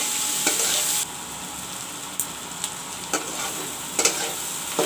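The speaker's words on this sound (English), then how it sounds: "you can see the sprouted moong is frying so nicely" Sprouted moong frying in a pan with saffron and turmeric, a steady close sizzle running throughout, punctuated by a few sharp stirring scrapes and clicks.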